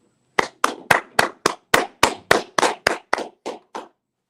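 A group at a brotherhood class claps hands in unison: twelve sharp, evenly spaced claps in a steady rhythm, loud and close, with silence between each beat.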